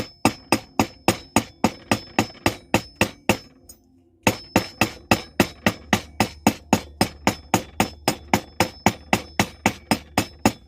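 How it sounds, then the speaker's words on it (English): Light, steady hammer taps on flat copper wire jewelry, a quick even rhythm of sharp metallic clinks close by, with one brief pause before the tapping resumes at the same pace. "Give it some little taps. You ain't gotta whack hard on this."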